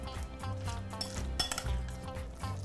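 Spoon gently stirring squash salsa in a bowl, soft scraping and light clinks of utensil against the bowl, quiet and close, with brief louder knocks midway.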